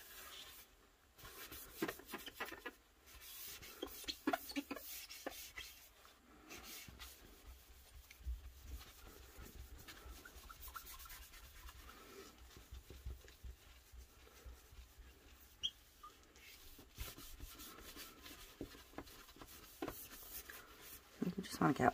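A paper towel dampened with a little alcohol is wiped over glass to lift off alcohol ink, giving soft, irregular rubbing and squeaking strokes that stay quiet and close throughout.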